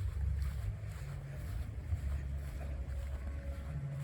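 Wind gusts buffet the microphone outdoors during a rubber-powered model dart plane test flight, a continuous low rumbling rush with no talking.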